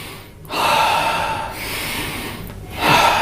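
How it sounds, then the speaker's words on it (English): Deep breaths drawn in and let out during a guided breathing exercise, three long airy inhales and exhales in steady rhythm, close and clear with no talking. "all we're doing is we're breathing in and then we're just letting go."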